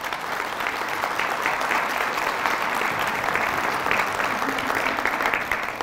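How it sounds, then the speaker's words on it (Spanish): A church congregation applauds with steady, dense clapping for about six seconds, sustained and fairly even in loudness, with no voice over it. "Fuertes aplausos a Jesús."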